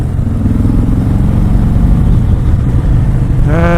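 A Harley-Davidson Sport Glide 107 from 2018 cruising at highway speed gives a loud, steady low engine drone with wind rush, and a rising revving tone swells near the end.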